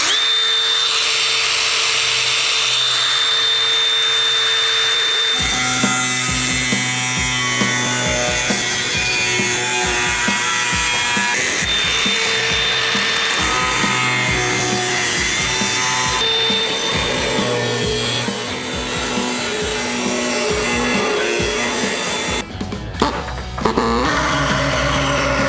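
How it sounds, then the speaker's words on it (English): An angle grinder cuts into the sheet-metal body of a project truck, screaming loud and continuous for over twenty seconds, its harsh tone shifting as the disc bites and a brief clatter near the end. "So I'm gonna grab my angle grinder."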